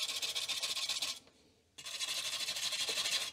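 Steady rasping scrape of metal being rubbed to remove rust stains from the metal cover of an Amiga 2000 floppy drive, close and loud, with a brief pause before the scraping resumes.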